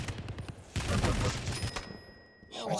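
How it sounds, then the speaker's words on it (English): Heavy machine gun firing in a Quake video game match, sharp rapid bursts of shots in the first half, then a steady tone and another short burst, with commentators talking over the action. "Oh yeah, and the HMG from Sirius."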